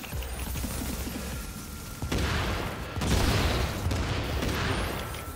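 In The Division video game, gunfire and a grenade explosion sound as a dull thud, then a sudden boom that rolls into sustained rattling shots and blasts.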